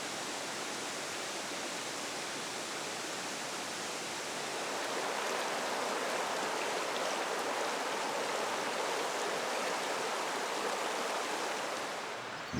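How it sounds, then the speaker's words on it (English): Sylamore Creek in the Ozarks of Arkansas runs as a steady, full rush of flowing stream water, close and continuous, growing slightly louder partway through, with no voices. "The water eventually ends up in Sylamore Creek."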